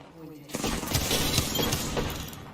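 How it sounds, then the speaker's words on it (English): Rapid bursts of gunfire and sharp impacts in Apex Legends, a dense crackling volley lasting a couple of seconds at moderate distance, with speech-like game voices mixed in. "Someone just shot at me"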